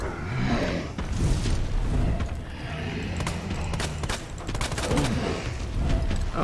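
Gunfire in the survival horror game Resident Evil 2 Remake from a shotgun and pistol, with dense overlapping shots and booms over a continuous, loud, noisy game mix.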